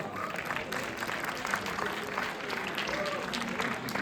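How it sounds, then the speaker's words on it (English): An audience at a college tech event applauds the event sponsors with a few seconds of sustained, moderately distant clapping that fills the room. "Let's give them a big round of applause, everyone."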